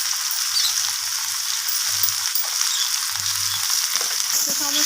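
Turmeric, red chilli and cumin powders being stir-fried with vegetables in a pan for a pui shak chachchari with catla fish head: a steady, even sizzle throughout, with soft low scraping strokes of stirring, close and alone.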